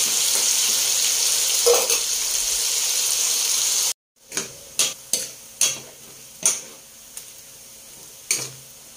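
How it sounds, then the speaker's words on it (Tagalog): Steady loud sizzling of sliced pork frying in hot oil, then after a short pause, scattered crackles and pops of spitting oil. "Prito po natin yung mga ganyan. Hiwa-hiwa na po yan."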